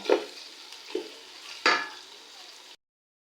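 Green chillies fry in a pan with a soft sizzle, broken by three sharper scrapes as a spoon stirs them, close and fairly quiet before it cuts off.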